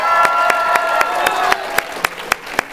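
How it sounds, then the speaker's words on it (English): A studio audience applauds steadily before a live talk show taping, the dense clapping carrying along with a few sharp, louder claps standing out near the end. "Give them a round of applause right in front."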